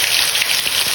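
Garlic-ginger paste hits hot mustard oil with a loud, steady, crackling hiss, close and continuous like heavy rain, without any talk over it.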